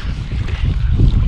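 Steady wind gusts over a river while fishing from a boat on the Siret, a continuous low rumbling buffet on the microphone with no talk.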